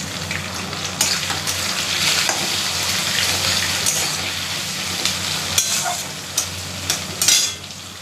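Prawns, potato and cumin frying in a hot pan give a loud, steady sizzle close by, with bursts of scraping from stirring and a few clatters toward the end, no talking.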